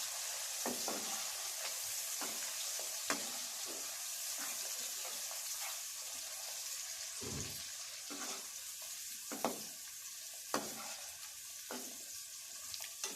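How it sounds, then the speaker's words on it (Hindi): Chopped onion frying in hot ghee, a steady close hiss of sizzling with occasional clicks and scrapes of a spoon stirring the pan, continuous throughout with no talking. "उसी घी में हमने प्याज डालना। ये मैंने प्याज डाल दिया।"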